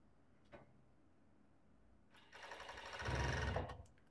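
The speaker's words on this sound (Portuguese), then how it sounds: "Comecei a costurar," A sewing machine stitches a long-sleeve robe, its motor whirring in one steady run of about a second and a half, swelling louder near the end after a faint click earlier, with no talking.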